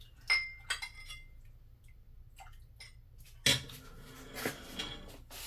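Consommé going into a small serving dish, with sharp clinks of glass and dishes, several separate taps early and a louder cluster of clatter near the end.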